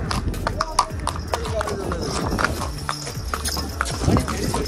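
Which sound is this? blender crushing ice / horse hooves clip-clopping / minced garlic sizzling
horse hooves clip-clopping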